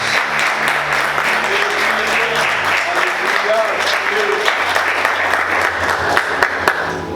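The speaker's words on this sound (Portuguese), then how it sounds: "Vamos aplaudir Jesus bem forte." A church congregation applauds loudly during a worship service, dense sustained clapping filling the room for several seconds, with voices and faint musical tones underneath.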